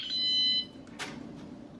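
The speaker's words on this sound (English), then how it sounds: "if we put it on the outside of the van and arm it, you'll see how powerful it is as an alarm." A VanGuardian dual van alarm sounds a piercing high electronic tone, loud and close for about half a second before cutting off, followed by a brief rustle.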